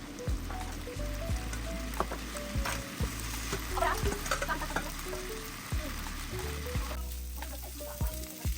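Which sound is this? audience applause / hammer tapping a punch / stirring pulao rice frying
stirring pulao rice frying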